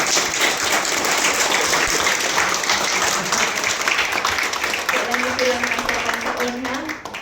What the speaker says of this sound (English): let us please give a resounding applause and the warmest welcome to our families from MEGAWORLD.